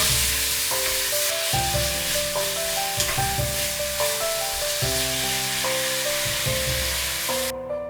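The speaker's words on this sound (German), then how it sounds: "Das Fleisch kurz ca. 1 Minute braten." Beef sizzles and hisses as it is stir-fried briefly in a very hot pan with a little oil, a constant loud crackle with background music playing over it.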